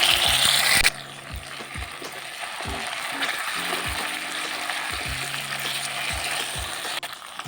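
Spice paste tipped into potatoes already fried golden for an Indian-style broccoli and potato curry, giving a loud, steady sizzle with repeated clicking and scraping knocks throughout and no voices.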